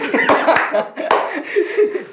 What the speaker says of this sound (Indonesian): Aku tepuk tangan juga. Tepuk tangan juga dong.